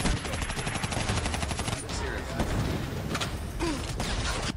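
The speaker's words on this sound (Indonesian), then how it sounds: "Tiba-tiba terdengar rentetan tembakan." A rapid burst of automatic gunfire, a volley in an armed raid on an army commander's home, rattles loudly and densely for nearly two seconds, followed by scattered louder shots and booming reports.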